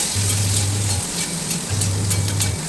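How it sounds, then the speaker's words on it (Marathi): Green chillies fry in hot oil, producing a loud, dense, continuous sizzle with crackling pops, close up, with a low steady hum behind it. "तेलात ह्या मिरच्या चांगल्या खरपूस अशा भाजून घेतल्या"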